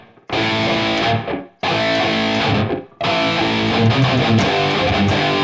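A distorted electric guitar plays a palm-muted riff, three loud, chugging phrases separated by short gaps.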